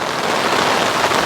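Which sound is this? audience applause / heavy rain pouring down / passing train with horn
heavy rain pouring down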